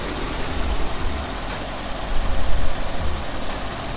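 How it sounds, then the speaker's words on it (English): A Volkswagen Touareg 3.0 TSI V6 turbo petrol engine, 340 horsepower, idles with a steady low rumble, swelling slightly louder for a moment midway, with no voices over it. "V6 TSI 3-liter turbo petrol engine with 340 horsepower and 450 Newton meters of torque."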